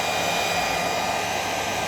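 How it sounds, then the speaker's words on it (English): A hair dryer blows with a steady, even whoosh and whine, heating the adhesive on a car spoiler extension, close and constant throughout, with no voices. "I'm just heating up the glue now to the hairdryer."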